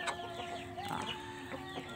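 Chickens cluck in short, repeated bursts over a steady background hum, several birds calling close by at moderate volume near a beach.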